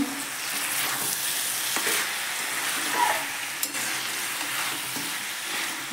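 Chicken masala with Kashmiri chili powder and tomato sizzles and frying in a pan while a spoon stirs it, a steady close crackle with occasional scraping and clinks of utensil against the pan.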